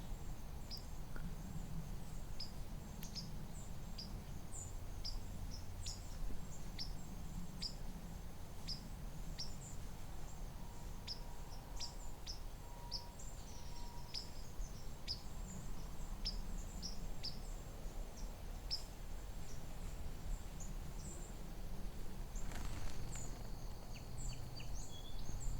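White-throated sparrows and a few song sparrows give short, high chip and tseep calls during autumn migration, scattered repeatedly over a steady outdoor hiss with insect-like background, faint and distant-sounding.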